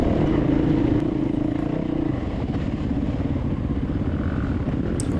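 A motocross dirt bike roars through a muddy ravine at the Glenallan OXCR round 3 race, its engine loud and close with a steady, sustained drone and slight dips in revs throughout.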